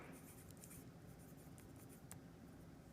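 Pencil or pen writing on paper while working a ratio math problem, a quiet continuous scratchy stroking with a few sharper ticks, close and faint, with no talk.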